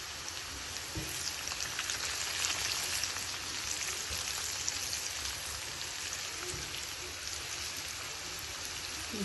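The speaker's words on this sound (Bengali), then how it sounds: "কি সুন্দর করে ভাজা হচ্ছে।" Red spinach with garlic frying in a pan, a steady, even sizzle that crackles softly and continuously at moderate distance, with no voices over it.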